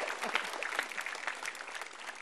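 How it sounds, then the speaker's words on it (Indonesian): Applause for a comedian at a stand-up comedy show, a short burst of crowd clapping that is fairly faint and distant, dense and uneven for a couple of seconds. "Tepuk tangan untuk Bang Sultan"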